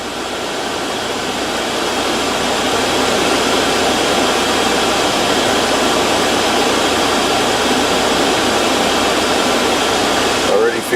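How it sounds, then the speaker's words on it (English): Car air conditioning fan blowing on high inside a vehicle with a black interior, a loud, steady rushing of air that holds constant throughout, with a brief click at the end. "Crank the fan up and let her do its thing."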